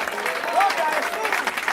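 A church congregation claps during a Spanish-language sermon, steady crowd applause with a voice speaking over it.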